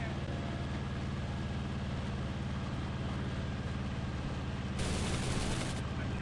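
Aircraft machine guns rattling in the IL-2 1946 flight simulator, a dense rapid burst over a loud, constant engine drone, with a brief harsher blast near the end and someone speaking in places.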